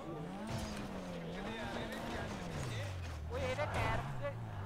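A red Maruti car's engine revs up and down in a smooth, wavering drone while driving, steady and close, with voices talking over it.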